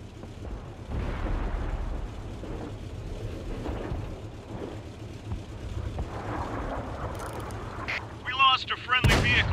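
Tank gunfire and explosions in the video game World of Tanks, deep booming rumbles rolling through the clip with a sharp blast near the end, a voice talking over the battle.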